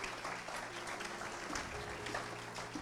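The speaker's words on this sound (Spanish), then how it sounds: "le damos otro aplauso a Él porque Él" A church congregation applauds during a sermon. The soft, even clapping is heard throughout over a low background hum, with no voices on top.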